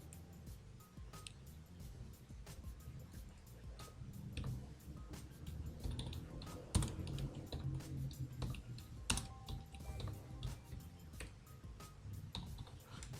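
Computer keyboard typing while form details are entered for a Bahrain visa application: a steady run of quick, close clicks and key taps with occasional louder strokes, continuing throughout without talk.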